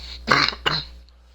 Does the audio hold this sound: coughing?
yes